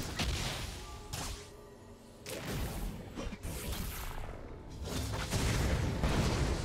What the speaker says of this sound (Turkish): Büyük bomba geldi